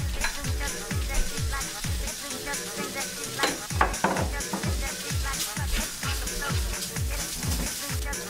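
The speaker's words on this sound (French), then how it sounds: "maintenant, je vais faire revenir ma poitrine" Pork belly browns in a hot pan with a constant sizzle, broken by repeated scraping and clattering as it is stirred, close up, while someone talks over it.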